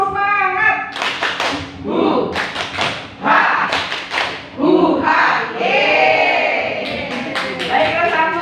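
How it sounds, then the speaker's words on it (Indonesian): A group performs a rhythmic spirit clap, tepuk semangat, with bursts of patterned hand claps and thumps in short sets. Voices chant and call out between and over the claps, including some that sound like children. "sekali lagi ya. Tepuk semangat."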